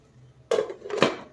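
A lid goes onto a pan of cooking okra with two quick metallic clanks about half a second apart, close and fairly loud, over a quiet background.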